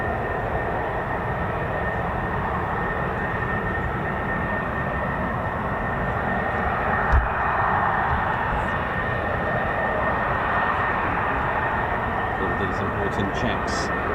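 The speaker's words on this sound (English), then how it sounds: "I can hear F-35s from the north side of the base." F-35 fighter jets sound from across RAF Lakenheath's north side, a distant, steady rumbling roar that persists throughout, with a brief thump partway through.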